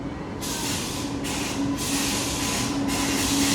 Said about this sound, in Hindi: वो देखो गाई, रेलगाड़ी आ गई।